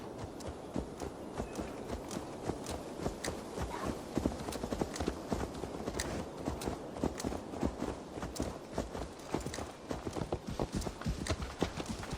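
Horse hooves clip-clopping at a walk in Assassin's Creed Valhalla, steady close rhythmic clops on hard ground continuing throughout, alone without talk.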